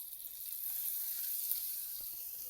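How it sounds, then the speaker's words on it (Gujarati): Spiced vaghar tempering is poured into a pot of dal fry and sizzles with a soft, hissing crackle that holds steady throughout, fairly quiet and close, with no voices. "હવે આપણે આ વઘારને આપણી દાળ ફ્રાયમાં જવા દઈશું."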